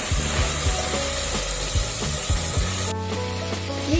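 Onion, ginger and garlic sauté in hot oil in a pan for a squid curry, giving a loud, continuous close-up sizzle with occasional scraping strokes of a stirring spoon.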